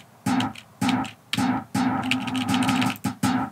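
A short synth stab repeated several times in a choppy rhythm, each hit bright and punchy with a quick decay, played alone.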